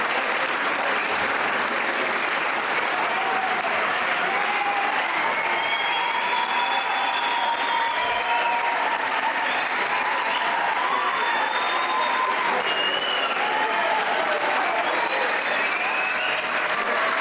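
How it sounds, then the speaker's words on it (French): A small audience claps steadily and warmly at the close of an intimate pocket-sized concert, the sustained dense applause filling the space without a break. "Les visages s'illuminent, puis applaudis."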